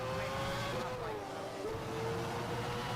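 A Formula 1 car roars in a racing video game, its engine note holding a steady high whine that dips and climbs as it shifts, loud and continuous throughout with no talk.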